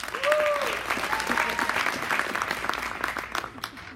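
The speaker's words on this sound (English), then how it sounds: "I'm gauging to see who gets the most applause here." Audience applause for a teacher at a school curriculum night, a short burst of clapping from a moderately distant crowd with some voices mixed in.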